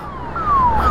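An ambulance siren on a highway sounds as a steady wailing tone that sweeps slowly downward, fairly close and growing louder over about a second, with road rumble beneath it.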